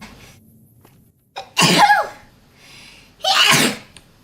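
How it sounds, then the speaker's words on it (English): A woman sneezes twice, two loud explosive bursts about a second and a half apart, each preceded by a short breathy intake, with near silence between. "I can sneeze."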